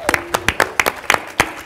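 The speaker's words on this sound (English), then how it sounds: "applause" Audience clapping at an Elvis Week 2023 fan discussion event: a handful of sharp, separate claps in a loose steady rhythm, close and fairly loud, with no voices.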